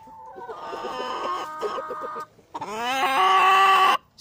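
Chickens and roosters at close range, including young cockerels with coral-red combs, give a steady run of loud harmonic clucks and calls with a brief break midway, followed by a longer drawn-out cry.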